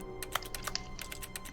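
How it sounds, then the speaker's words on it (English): Rapid keyboard typing in the video game The Stanley Parable, a close, steady run of clicky keystrokes with a few sharper taps standing out. "I have an invisible keyboard."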